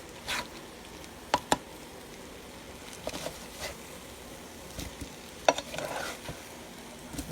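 Eggs cooking in a pan give a soft, quiet sizzle, and sharp clacks from a utensil scraping and flipping them come in short bursts, a few seconds apart.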